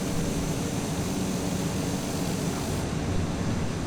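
A TBM turboprop aircraft engine with power pulled back during landing, a steady loud broadband roar and rush of airflow heard from inside the cockpit, continuous with no talk.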